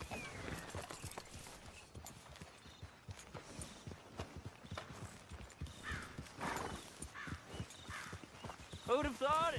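Steady hoofbeats clip-clop at a walking pace beneath ongoing conversation in the video game Red Dead Redemption 2, with a horse's whinny near the end.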